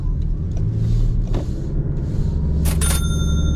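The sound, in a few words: Toyota Crown 2.5 hybrid car driving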